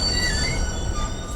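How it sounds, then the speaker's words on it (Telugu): A train's wheels squeal as it comes to a stop, a steady, close, high-pitched metallic screech over a low rolling rumble, with no talking. "ట్రైన్ ఎందుకు ఎక్కడ ఆగింది?"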